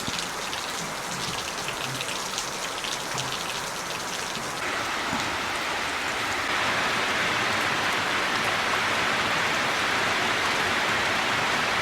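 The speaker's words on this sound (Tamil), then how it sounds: "நிறைய நேரமாக இப்போ மழை பெய்யுது." Heavy rain pours down steadily outdoors in an area with wild elephants, a dense, hissing downpour that grows louder partway through and keeps going without pause.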